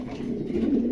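Large pigeons held for sale give a low, soft, continuous cooing murmur, close by and brief, with no talk.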